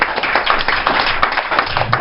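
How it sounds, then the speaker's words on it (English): Comedy club audience in Edinburgh breaking into steady, dense applause, many hands clapping close and loud for two seconds with no talk over it. "Will you give Chris a round of applause?"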